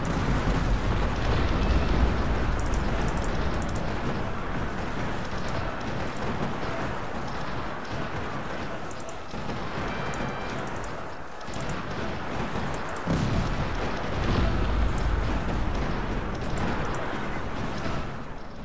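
Mortar explosions on a battlefield in the strategy video game Cossacks, a dense continuous rumble of blasts and booms layered together, loud and unbroken throughout.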